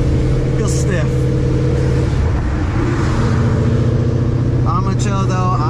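A Ford Mustang S197 fitted with a Gen 2 engine idles with a steady, deep harmonic drone and light, low revs, recorded close; a voice comes in briefly near the end.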